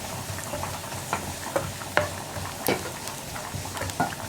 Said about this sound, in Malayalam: ഇതെല്ലാം ചേർത്ത് നന്നായിട്ടൊന്ന് മിക്സ് ചെയ്യുക.